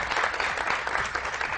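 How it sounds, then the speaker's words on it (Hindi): Studio audience at a morning TV show clapping, dense steady applause filling the short stretch without pause. "तो A+ के लिए बहुत सारी तालियां जो दे रहा है स्कूटी।"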